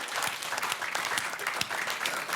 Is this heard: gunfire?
no